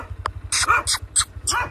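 A dog near an idling bike on a rural Karjat trail gives a few quick, close barks mixed with high whimpering yelps over a low rhythmic engine rumble.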